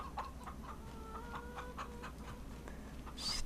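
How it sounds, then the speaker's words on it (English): Chickens in the Farming Simulator 25 video game clucking in short repeated calls with a steady pulse, heard alone against a soft in-game ambient background. "How's the chickens doing?"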